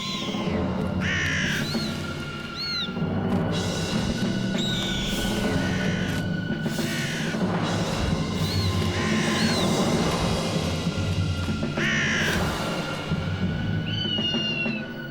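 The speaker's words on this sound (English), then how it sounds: "And the belligerent crows are constantly at war with the birds of prey." Belligerent crows caw repeatedly in harsh, loud bursts that overlap and come in quick clusters over a steady outdoor background, at odds with birds of prey.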